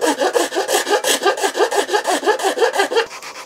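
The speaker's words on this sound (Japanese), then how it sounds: "サンドペーパーやヤスリなどを使って、元あった線、黒い線に少しでも近づくように滑らかにしていきます。" A wooden template is smoothed with sandpaper and a file, giving steady rhythmic back-and-forth rasping strokes, close and loud, about a dozen even passes before stopping.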